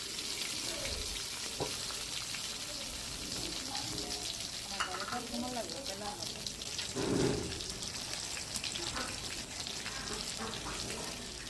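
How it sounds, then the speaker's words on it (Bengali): Eggplant slices fry in oil after a batch of hilsa fish, giving a steady close sizzle and crackle throughout with occasional stirring and soft clinks. "মাছগুলো ফ্রাই হয়ে গেলে একইভাবে বেগুন ফ্রাই করে নিন"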